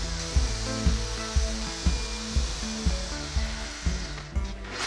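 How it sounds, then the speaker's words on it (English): A power drill whirs steadily into wood, drilling screw holes for a bolt-on leg with a rhythmic, repeating pulse, pausing and restarting several times at close range. "we're drilling for the screws, as this is a bolt-on leg"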